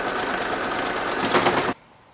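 Sewing machine running steadily at close range, stitching the side seams of a fabric bag with French seams, a continuous dense mechanical whir that stops abruptly near the end, leaving quiet.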